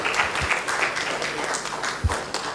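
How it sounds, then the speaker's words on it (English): An audience applauds after a talk honoring Dr. S. Natarajan, a dense patter of many hands clapping at once, steady and fairly loud throughout. "A big round of applause for Dr."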